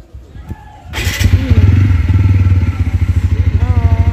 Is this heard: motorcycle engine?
yes